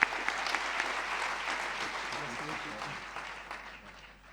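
Audience applause at an award ceremony, a dense patter of clapping from many hands that starts strong and gradually thins and fades over a few seconds, with a voice faintly underneath.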